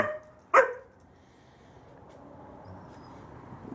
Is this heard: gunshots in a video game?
no